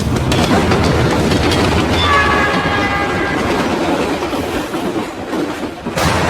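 A train passes close by on railway tracks, its steady rumbling and rhythmic wheel clatter loud throughout, with a brief metallic squeal of wheels midway before the noise eases toward the end.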